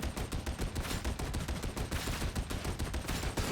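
Sustained rapid gunfire from a gun in the Warhammer 40K Darktide video game, a dense, loud burst of continuous shots filling the whole stretch with no talk.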